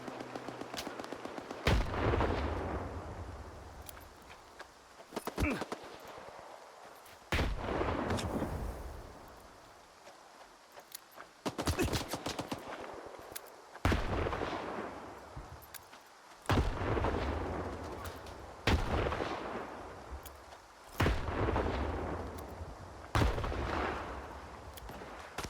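Gunfire and grenade blasts ring out in the shooter game S.T.A.L.K.E.R. 2: Heart of Chornobyl, loud booming bursts every few seconds with rattling shots and echoing tails between them, no voices.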